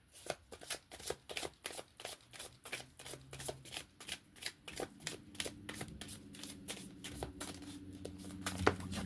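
Oracle cards being shuffled by hand, a steady run of crisp, close riffling slaps repeating quickly and evenly, growing slightly busier toward the end with no talking.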